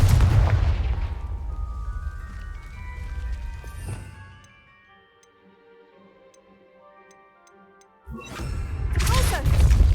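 Confringo fire spell blasts from Hogwarts Legacy on PS5: a booming burst opens, fades into quiet ticking and soft tones, then a second loud blast erupts near the end.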